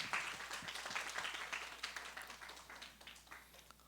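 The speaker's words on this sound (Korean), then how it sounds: "큰 영광의 박수를 올려드립시다." A congregation claps in a church service, a short, fairly faint burst of scattered applause that tapers off.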